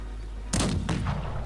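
Mines blowing up in the Cossacks 3 strategy game, heard as two sharp, loud explosive bursts about half a second apart, with a rumbling tail trailing off after them and no talk.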